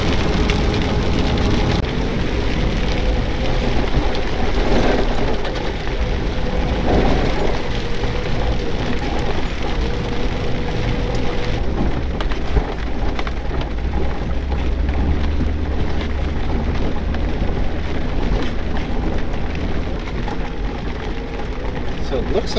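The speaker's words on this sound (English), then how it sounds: "And now, it's raining" Steady broadband rain hiss drumming on a car roof during a heavy downpour, continuous throughout with a low engine rumble underneath and occasional voices.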